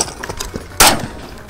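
A single loud, close shotgun blast cracks out during a quail hunt in Idaho, cutting through quiet outdoor background with no talking.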